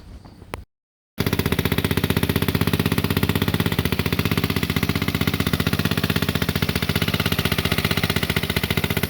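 A scooter that had sat unused and would not run coughs into life after fuel is pumped in, a brief burst then a gap of silence before a loud, close, rapid steady engine chatter that keeps going to the end.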